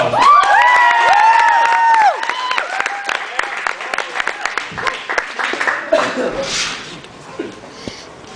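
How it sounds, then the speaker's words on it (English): A comedy club audience claps and whistles with bright cheers, then the applause thins into scattered claps and murmuring voices before fading out. "please give a nice round of applause for Mr. Tony Ginocchio."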